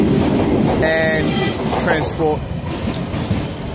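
A Sydney Trains electric train, set T24, rumbles and clatters past the platform at Mortdale Station, loud and close, with someone talking briefly over it.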